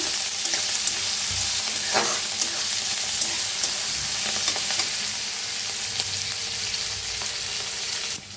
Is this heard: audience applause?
no